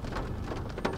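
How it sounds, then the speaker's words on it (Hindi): Heavy rain pours down steadily at night during a Durga Puja outing, a dense continuous hiss of drops drumming on surfaces, close and loud, with no one talking. "ये देखो भाई बारिश आ गया, खतरनाक जोर से बारिश आ गया"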